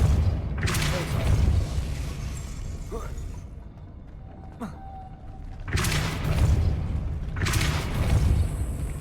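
A Depulso spell strikes in the Hogwarts Legacy video game, landing as loud booming impacts with broadband bursts, the last two close together near the end, over game background noise and a voice talking.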